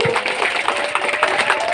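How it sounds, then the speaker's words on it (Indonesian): Applause from an audience at a village gathering in Desa Terusan Manis Mata, a dense, steady wash of many hands clapping that holds evenly throughout the moment. "Tepuk tangan untuk kita semua."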